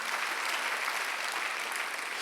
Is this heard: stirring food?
no